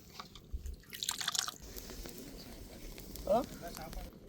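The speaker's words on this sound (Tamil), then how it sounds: "நல்லா பொங்கி வருதுங்க" Jaffna-style fish curry with coconut milk and tamarind boils up in a pot, with soft bubbling and scattered crackling pops under a nearby voice.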